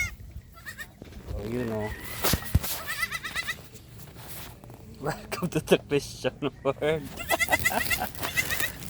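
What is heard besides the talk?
goat bleating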